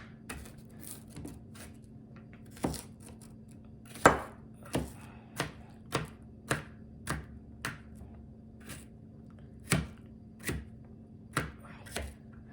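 Onion chopped with a knife on a board, a dozen or so sharp, crisp knocks at an uneven, unhurried pace, close and clear over a faint low hum, no talking.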